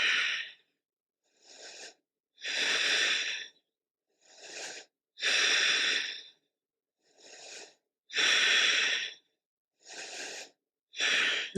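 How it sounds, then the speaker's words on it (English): Heavy, steady breathing during a beginner-friendly goddess yoga flow, with long loud exhales alternating with shorter inhales in a slow regular rhythm, close and alone with no talk. "Just breathe."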